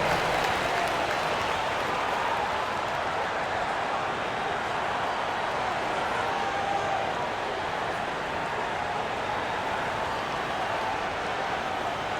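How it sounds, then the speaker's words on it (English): Dense, continuous applause and crowd noise in the NBA 2K25 video game fill the whole stretch, loud and unbroken, like an arena audience clapping and cheering. "Give yourself a round of applause."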